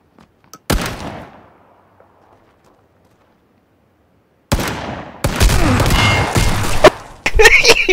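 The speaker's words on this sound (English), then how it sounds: "He shot me from the bottom" Gunfire in the PUBG battle royale game: a single sharp shot with a fading tail, then after a pause a dense burst of rapid shots continuing in loud, close volleys.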